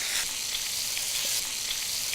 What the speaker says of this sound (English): fish or scallops in a pan of nut brown butter, and having the pan really quite hot